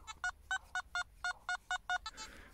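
A metal detector beeps in a regular run of about ten short, identical electronic tones, evenly spaced and fairly quiet, ending in a brief scrape, while detecting in a field.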